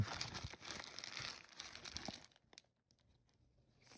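Parcel packaging is torn open close by with a burst of crinkling and ripping of paper and plastic wrap, fading to a few faint rustles near the end.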